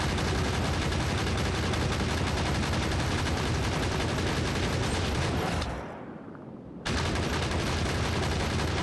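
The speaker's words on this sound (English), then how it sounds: "Let's get all these turrets active." Gun turrets in Factorio fire in a dense, continuous rattling barrage, loud and unbroken, stopping abruptly for about a second before the rapid firing resumes.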